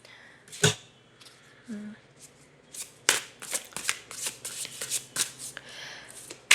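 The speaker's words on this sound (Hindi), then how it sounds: "पहले मैं एक बार सारे के सारे कार्ड्स निकालना चाहूँगी" A deck of tarot cards being shuffled up close, with quick papery riffles and flutters in an irregular run of bursts, starting with a single snap.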